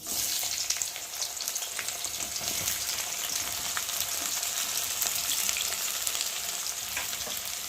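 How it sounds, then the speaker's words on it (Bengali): Onions sizzle steadily in hot oil, a constant crackling hiss heard up close with faint occasional stirring, no talk. "আর এখন আমি পেঁয়াজগুলো দিয়ে ভালো করে ভেজে নেব"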